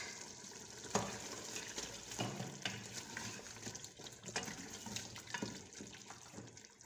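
Chopped ginger frying in about a cup of oil in a pan, with a steady close sizzle and crackle broken by occasional stirring scrapes and clinks.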